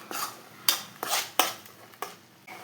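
A utensil scrapes and clatters in a pan as yogurt is stirred into chicken for an oil-free dish, with about five sharp, rhythmic strokes close up and no talking.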